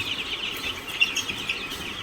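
Seven-day-old Kaloya chicks chirp in a soft, dense, continuous chorus of high peeps, moderately close.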